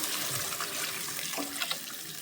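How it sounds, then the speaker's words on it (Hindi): Water poured into a cooking pot of rice and peas for pea pulao, a steady close splashing stream running for a couple of seconds with no voices. "3 कप मैंने चावल लिए थे, तो उसमें 5 कप जो है मैं पानी के शामिल करूँगी"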